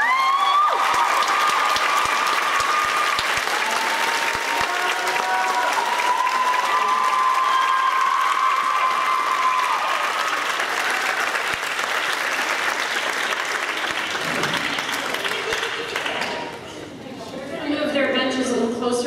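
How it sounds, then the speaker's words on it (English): An audience at a high school one-act play applauds the cast in steady, dense clapping that runs on for many seconds, with voices mixed in and the applause thinning toward the end. "can you please give this cast a round of applause?"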